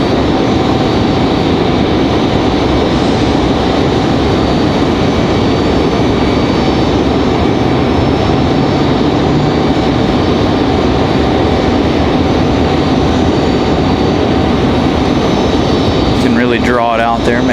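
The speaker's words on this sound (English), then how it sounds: "Here's our E175 from JFK. Getting closer." An Embraer E175 inbound from JFK approaches Raleigh-Durham International with a loud, continuous jet roar that stays steady and heavy throughout, a faint whistling sweep rising near the end.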